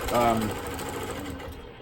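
Longarm quilting machine stitching during ruler work, a steady mechanical hum with rapid needle chatter beneath a speaking voice, fairly close and even in level throughout.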